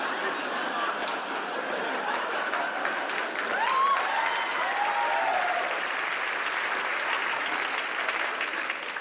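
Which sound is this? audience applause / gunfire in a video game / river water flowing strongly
audience applause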